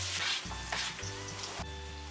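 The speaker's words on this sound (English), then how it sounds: "frying our onions until they're nice and brown" Chopped onions frying in oil in a wok for chicken karahi, a steady close sizzle with soft stirring scrapes and a low hum underneath, no voices.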